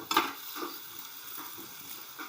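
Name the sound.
frying onions for paneer masala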